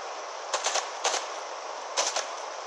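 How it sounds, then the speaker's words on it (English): Fortnite gunfire: a few quick clusters of sharp, crackling shots in short rapid bursts, moderately distant and thin-sounding over a steady hiss of background game noise. "Oh, he's trying to shoot me."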